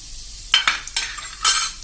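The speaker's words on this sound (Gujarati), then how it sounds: "1 ટીસ્પૂન જેવું આપણે આખું જીરું નાખી દેશું, અને પિંચ જેટલી આપણે હિંગ નાખી દેશું" Whole cumin seeds and a pinch of asafoetida hit hot oil, giving a few quick bursts of sizzling hiss and a utensil clink, close and short, with no voices.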